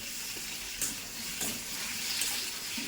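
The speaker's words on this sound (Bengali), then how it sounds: "মাছগুলো আমি ভালো করে পরিষ্কার করে ধুয়ে নেবো" Running tap water streams steadily over fish being washed clean in a kitchen, a continuous close hiss with small splashy bursts and no talking.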